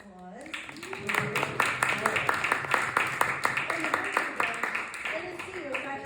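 Audience clapping for a guest at a Walt Whitman literary reading event, a moderate burst of applause from a modest crowd that rises, holds for several seconds, then tapers off.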